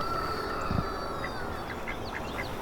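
Young ducklings on a farm give a few soft, quick quacks and peeps at middle distance, scattered over a faint background hum.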